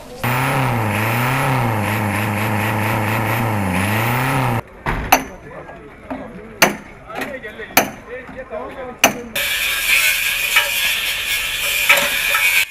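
At a car scrapyard in an Ivorian city, a loud droning vehicle engine runs for several seconds, then sharp metallic bangs and clanks ring out amid the din, followed by more engine and machinery noise.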